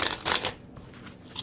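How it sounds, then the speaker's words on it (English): Tarot cards are shuffled in two quick riffling bursts at the start, followed by quieter handling and a faint tap. "I need one shuffle in here."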